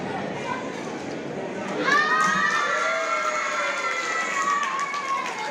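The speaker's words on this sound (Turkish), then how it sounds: "kocaman bir alkış" Crowd at a circumcision celebration cheering and shouting, with a rising swell of voices and whoops joining mid-way and carrying on loudly to the end, children's shouts among them.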